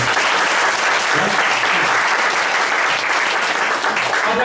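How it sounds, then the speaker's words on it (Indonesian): A large audience at an Indonesian leadership talk claps steadily and loudly, a dense, continuous wash of applause that holds at full strength throughout. "Tepuk tangan untuk Indonesia."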